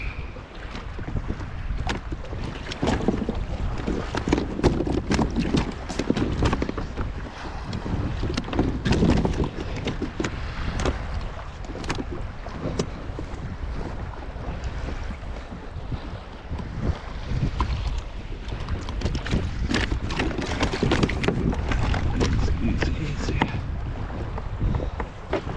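Wind and choppy lake waves around a kayak during deep vertical jigging on the Finger Lakes, with constant water splashing and heavy wind buffeting on the microphone throughout.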